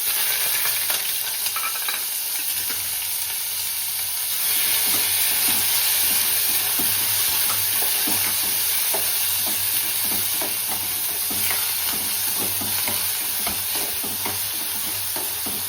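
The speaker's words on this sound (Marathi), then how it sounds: "आता मोहरी टाकते, छान कढीपत्ता घालते आणि लगेच कांदा घालून देते" Mustard seeds, curry leaves and onion frying in a pan, a loud continuous sizzle with busy crackling and repeated stirring scrapes throughout, close by with no talk.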